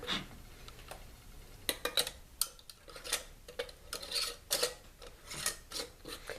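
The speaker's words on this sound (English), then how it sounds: "Then we'll take the rings and we're going to screw them down." Metal rings are screwed down onto canning jars of dried beans, giving a series of quiet, irregular scraping clicks and rasping twists up close.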